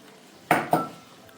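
Carrot halwa stirred in a pot with cashew slivers and cardamom powder added, giving two distinct metallic scrapes and clanks of a spoon against the pot, close and brief, with quiet between.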